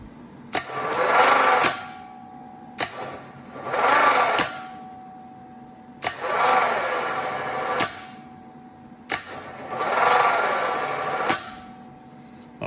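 An air-cooled Volkswagen starter motor clamped in a vise on a bench runs in four separate bursts of a few seconds each. Every burst opens with a sharp click and settles into a loud, whirring electric drone.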